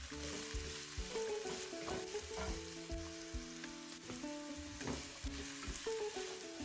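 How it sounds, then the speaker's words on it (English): Onions, carrots and peppers sizzle in hot vegetable oil for a vegetable basmati pilaf, a steady close frying crackle with occasional stirring scrapes throughout, no voices. "Into the oil, add onions, carrots, and the peppers. Saute this for a minute."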